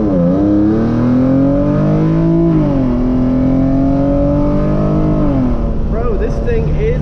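A tuned, full-bolt-on Genesis Coupe 3.8 holds its engine near 1750 RPM for a launch. It gives a loud, close, continuous drone that rises and dips in pitch, then eases off near the end.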